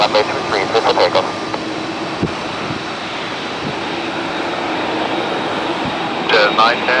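A Lufthansa Boeing 747 taking off from runway 23 at Toronto Pearson, a loud sustained jet roar filling the air while air traffic control radio chatter plays over it.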